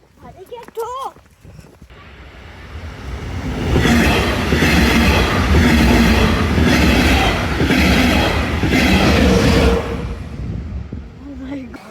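A train rumbles past close by, its clattering wheels swelling into a loud, steady roar before fading, with brief voices at the start and end.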